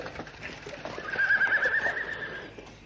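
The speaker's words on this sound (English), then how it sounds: "Block the road, stop the horse." A horse whinnies in a BBC Radio 4 Sherlock Holmes radio drama, a single drawn-out neigh rising mid-clip over faint hoof and road sounds at moderate volume.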